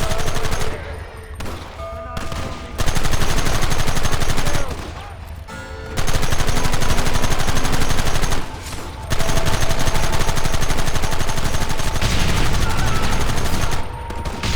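A sustained shootout in the video game Red Dead Redemption, with loud, dense gunfire and rapid bursts that pause briefly several times before resuming, rough and close throughout.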